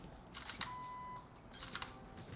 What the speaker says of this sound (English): this is my shutter release